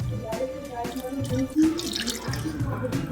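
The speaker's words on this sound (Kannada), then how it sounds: "ಈಗ ಸ್ವಲ್ಪ ನೀರು ಹಾಕ್ತೀನಿ" Water is poured from a vessel into a pot of South Indian rasam, a steady close splashing and trickling with faint kitchen clatter and no talk.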